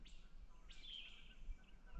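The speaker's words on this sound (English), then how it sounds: "hear the birds" Birds chirp and sing faintly at dawn along a mountain trail near Fontana Dam, a few short bright calls over a quiet, still background.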